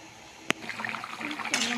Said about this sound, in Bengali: আমি এক বাটি মতো জল দিয়ে দেব উষ্মা গরম জল একটা বড় বাটিতে